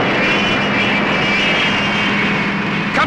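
Jet engines of the Fireflash airliner roar on the runway in a Thunderbirds episode, a loud, continuous whine and rumble that stays steady throughout, with no talk.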